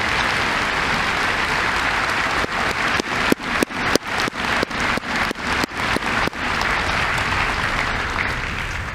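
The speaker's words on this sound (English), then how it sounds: "Please give them a very well-deserved round of applause." A large graduation audience applauds in a dense, sustained roar of clapping, with a few sharp claps standing out near the middle before it gradually thins.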